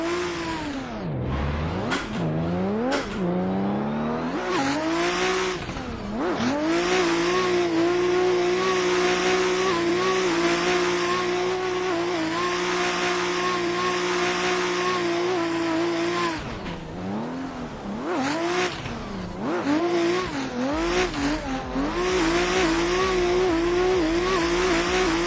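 A BMW E30 race car drives a hard lap, its engine revving up and down through repeated gear changes and braking dips, with tires squealing in the corners, loud and continuous, with no talking.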